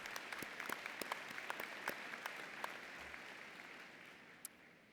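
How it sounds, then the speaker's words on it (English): A graduating crowd at a business college commencement applauds, the clapping thinning out into scattered, sharp individual claps that fade toward the end, with one late clap standing out. "Another round of applause, truly."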